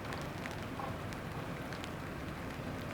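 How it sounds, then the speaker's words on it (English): Rain falls as a steady, faint hiss of dense pattering drops, continuous and even throughout with no voices. "Ooh, it's now raining."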